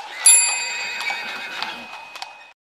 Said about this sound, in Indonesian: Dari kejauhan, suara lonceng delman kembali terdengar.